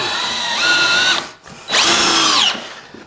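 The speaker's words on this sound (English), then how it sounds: "right here I'm just using a little dewalt 20 volt max with the lithium-ion battery" A DeWalt 20V Max cordless drill with a lithium-ion battery drives screws into a subfloor in two close, loud bursts of whining motor, separated by a brief pause.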